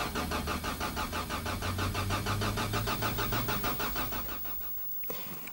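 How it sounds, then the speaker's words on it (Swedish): A car with a locked plug jammed in its exhaust pipe cranks and fires, its engine chugging in a steady pulsing rhythm before choking and dying out abruptly near the end, close and loud. "Motorn startar men kvävs efter någon sekund och dör."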